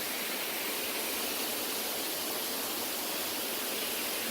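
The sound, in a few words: small creek flowing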